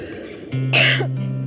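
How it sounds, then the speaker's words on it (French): A single sharp, close cough, abrupt and throaty, with no talking. "se met aussitôt à tousser"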